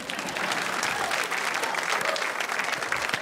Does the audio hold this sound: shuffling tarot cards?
no